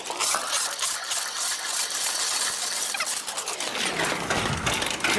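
A drain cleaning machine pulling its cable back out of a pipe, a close, busy mechanical ratcheting clatter and whir that runs throughout with rattling metal, no talking.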